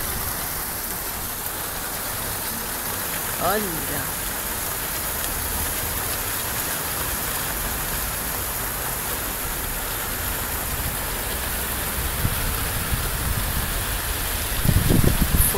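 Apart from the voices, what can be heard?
heavy rain intensifying at night in São Vicente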